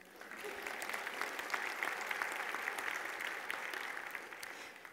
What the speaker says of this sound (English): You all can clap.